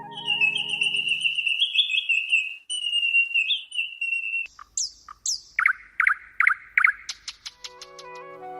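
Bird song fills the clip, with sustained clear whistled phrases at first and then a series of sharp, rapid chirps and trills, loud and close against silence, as a nightingale sings.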